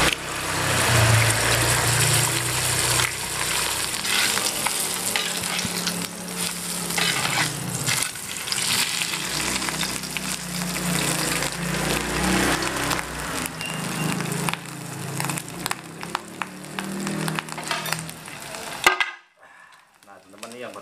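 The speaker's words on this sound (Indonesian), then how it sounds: "Kita ceplok telurnya langsung." An egg frying sunny-side up in a hot pan for a spicy Indonesian fried noodle dish gives a loud, continuous close-up sizzle with crackling spatters that runs steadily before cutting off abruptly near the end.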